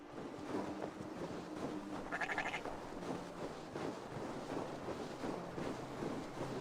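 Sheep bleat in the video game Assassin's Creed Valhalla, one brief wavering bleat rising over a low, steady ambient game backdrop.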